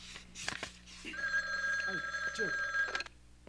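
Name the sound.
telephone ringing in a police office, TV drama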